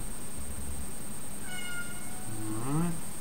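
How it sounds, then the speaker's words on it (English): A cat meows near the microphone, one rising, drawn-out call toward the end, over a steady background hiss and a faint high electronic whine. "The cat's still here, of course."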